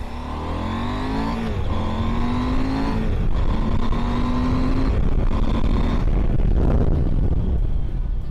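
A KTM 890 Adventure 2021 motorcycle accelerates in rain riding mode, its engine loud and close, revving up through several gears with brief drops between shifts and steady wind noise.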